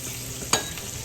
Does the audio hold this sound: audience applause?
no